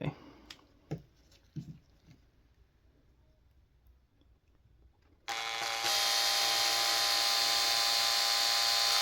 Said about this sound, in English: I just got these new 1mm drill bits, so let's try those.